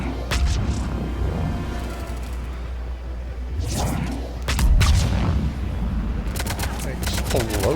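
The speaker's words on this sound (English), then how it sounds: "Explosions." Video game explosions in a sci-fi battle burst through a dense mix of gunfire-like cracks and booms, loud and close, with voices talking over the action.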